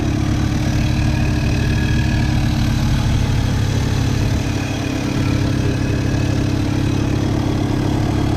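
A 1978 Toyota RV engine idles with a new fuel pump despite a faulty carburetor, a steady, close, rumbling drone with an even low pulse that barely changes throughout.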